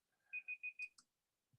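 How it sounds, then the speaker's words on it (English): Timer alarm going off during an online webinar: four quick identical electronic beeps in steady rhythm, followed by a couple of faint clicks, in an otherwise quiet room. "when my timer has gone off"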